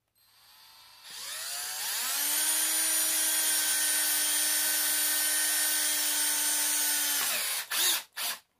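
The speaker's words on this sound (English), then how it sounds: "drill me a pilot hole for my screw in this" A power drill bores a pilot hole for a screw in metal while building a custom fishing cart rod holder, a steady loud whine held for about six seconds that rises as it starts and then winds down.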